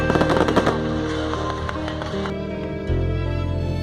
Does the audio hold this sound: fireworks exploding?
yes